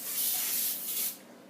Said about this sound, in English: you're going to take your Pam spray and you are going to spray the pan